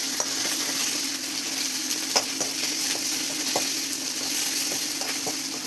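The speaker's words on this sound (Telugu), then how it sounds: "ఎర్రగడ్డలు బాగా ఏగినాక ఆ తర్వాత కొద్దిగా అల్లం వెల్లుల్లి పేస్ట్ వేసి ఆయిల్లోకి ఫ్రై చేసుకోవాలి." Onions with ginger garlic paste frying in hot oil for chicken gundekaya curry, a steady continuous sizzle with scattered small pops and a few light clinks of a stirring utensil, close and fairly loud with no talking.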